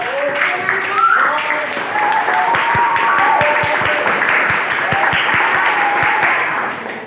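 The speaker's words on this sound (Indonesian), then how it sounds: "Tepuk tangan juga untuk kalian yang sudah diskusi" A classroom of students gives loud, sustained applause, with dense clapping continuing for several seconds and voices mixed in beneath it.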